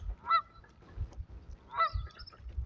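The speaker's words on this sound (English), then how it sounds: "Oh, there's a goose." A wild goose honks twice in clear bursts out on the water during a kayak trip, with low paddling and water noise running underneath between the calls.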